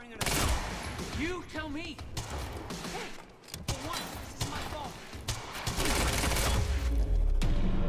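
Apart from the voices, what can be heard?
machine gun fire in the video game Quantum Break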